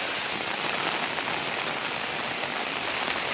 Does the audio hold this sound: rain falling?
yes